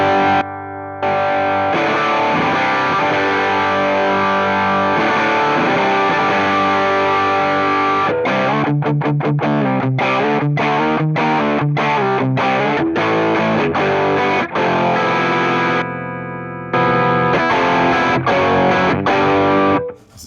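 Electric guitar played through a T-Rex Mudhoney distortion pedal into a Deluxe Reverb amp, loud sustained overdriven chords followed by a run of choppy, rhythmic muted strums, then ringing chords again, with no talking.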